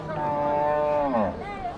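A cow gives a single sustained, resonant moo at a rural cattle market, close and loud, rising and bending in pitch before trailing off, with faint background murmur.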